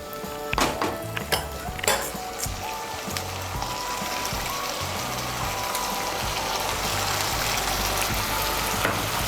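A spoon stirs a spice masala of turmeric, chili powder and salt in a pan for a lentil (musur dal) dish, with a few sharp clinks early on, then a steady sizzling, scraping texture that continues.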